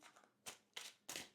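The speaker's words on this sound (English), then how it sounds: "One more shuffle." Three quick riffling bursts of tarot cards being shuffled, close and fairly soft, with short pauses between them.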